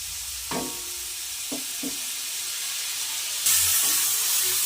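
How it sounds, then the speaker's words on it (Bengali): Chopped tomato frying lightly with chicken for a spicy chicken fry makes a soft, continuous sizzle, broken by a few dull stirring knocks near the start. The hiss swells louder toward the end, and no voices are heard. "টমেটো কুচি দেওয়ার পর আমি আবার একটু হালকা ভেজে নেব"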